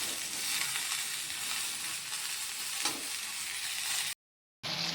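Cauliflower roast with poppy seeds frying in a pan, a close, steady sizzle with stirring scrapes for about four seconds before a brief dropout, then resuming.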